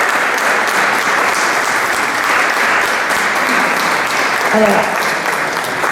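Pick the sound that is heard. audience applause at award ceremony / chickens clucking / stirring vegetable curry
audience applause at award ceremony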